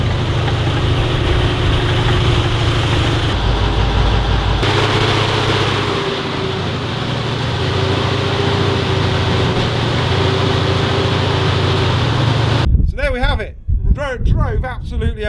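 A Sherman tank's heavy engine idles and runs with a steady, loud low rumble that shifts slightly as the tank pulls away, and a voice speaks briefly at the end.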